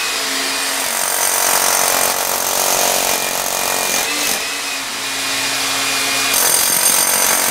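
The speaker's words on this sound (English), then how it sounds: "You have to stop drilling and raise the drill until the water does come out." A loud power drill bores weep holes into a basement cinder block wall, a harsh continuous grinding whine that briefly dips in pitch and load before resuming, with no talking.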